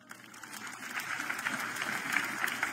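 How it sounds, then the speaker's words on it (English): A church audience claps after a healing testimony, a soft, fairly distant patter of applause that builds slightly over a few seconds. "People of God, that clap is not enough."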